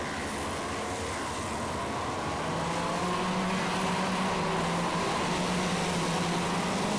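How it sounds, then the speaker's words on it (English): X30 Super racing karts on formation laps make a steady, droning engine buzz that stays level and fairly loud throughout with slight pitch shifts, as from a trackside or onboard position, with no speech. "There's the green flag, which means we go out for the 2 formation laps."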